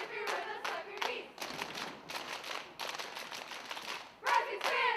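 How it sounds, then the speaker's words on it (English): Fans in the bleachers at a varsity high school football game, Canisteo-Greenwood Redskins against York-Pavilion Golden Knights, slap their knees in rhythmic patting bursts, fairly close, amid ongoing crowd voices and chanting. "if you're with us, clap your knees!"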